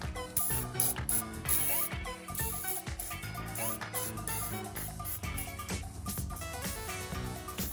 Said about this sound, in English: now we're gonna take off the fill bolt right here